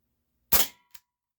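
A GAMO PT-80 gas air pistol fires once: a loud, sharp near crack that fades fast, then a brief faint click a moment later, with silence around it.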